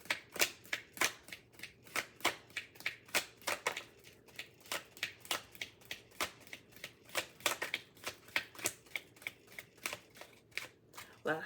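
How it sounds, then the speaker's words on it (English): Playing cards are riffled and shuffled over and over in quick crisp bursts, close up, with a steady rhythm and no talking. "Last shuffle."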